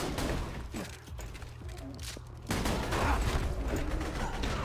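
Loud gunfire from a pump-action double-barrel shotgun in the video game Borderlands 2, with a dense burst of shots and mechanical clatter that gets louder and fuller partway through.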